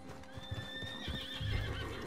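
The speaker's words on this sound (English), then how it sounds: "Get back on your horse, PJ." Horses whinny and hooves clip-clop in Red Dead Redemption 2 Online, with a long neigh rising over steady ambient game sound.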